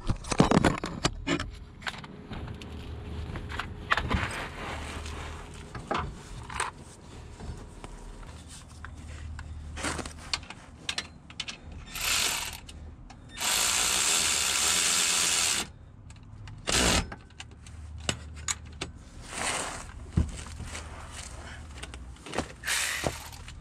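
Hand tools tighten the alternator bolts on a broken-down car at the roadside, with scattered metallic clicks, ratcheting and knocks near and far, plus a steady hiss that swells for a few seconds midway.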